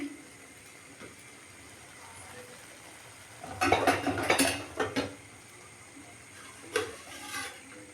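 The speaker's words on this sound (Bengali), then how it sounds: "এবার আমি ঢাকা চাপা দিয়ে দেবো। গ্যাসটা বন্ধ করে দিচ্ছি।" Metal pot lid set down on a cooking pot on a gas stove in a home kitchen, a burst of clanks and scrapes midway followed by a couple of lighter knocks, close but fairly quiet.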